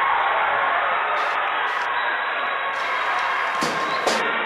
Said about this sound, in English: And listen to the crowd go wild.